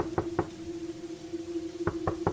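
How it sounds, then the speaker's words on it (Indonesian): Knocking on a front door at night: two quick pairs of knocks separated by a pause, sharp and fairly close over a faint steady hum. "terdengar ada ketukan di pintu depan rumah"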